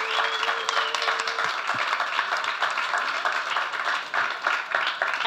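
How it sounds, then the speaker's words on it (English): Steady applause and scattered clapping from a crowd, filling the whole stretch at an even, moderately loud level. "let's give them a round of applause for you guys."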